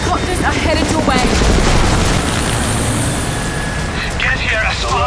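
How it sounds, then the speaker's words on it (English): Helicopters closing in during a combat sequence in Rise of the Tomb Raider, a dense, loud roar of rotor noise mixed with gunfire and impacts, continuous throughout with shouted voices over it. "helicopters are headed your way."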